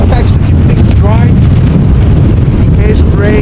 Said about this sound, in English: What you're hearing is a garbage disposal bag that I have wrapped over my backpacks to keep things dry